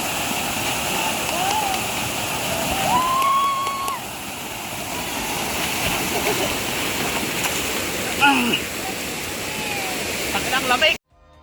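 Bokong Falls waterfall in Sagada, a steady rushing roar of falling water heard up close and continuous, with a voice speaking over it at times.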